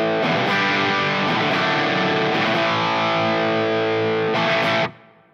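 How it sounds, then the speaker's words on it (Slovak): A PRS Single Cut electric guitar plays a heavily distorted chord riff through a Synergy amp with a Friedman module and a Tone Slave pedal, loud and sustained, with a few repeated strums before the ringing chord is cut off near the end. "Skreslené zvuky si nahráme pomocou PRS Single Cut"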